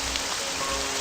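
Loud, constant rain hiss fills a moment of the game The Dawning Clocks Of Time, a dense unbroken wash of falling water with nothing else over it.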